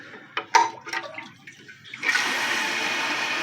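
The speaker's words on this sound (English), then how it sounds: "Water is draining out of that little cylinder, and when it gets all the way empty, the flush bucket will close." An American Standard Luxor vent-away toilet flushes with a rising rush of water that settles into a steady draining hiss, preceded by a few clicks and light handling noises of the tank mechanism.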